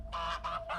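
Geese on an Edwardian farm give three short, close, honking calls in quick succession, each a brief nasal burst with short gaps between them.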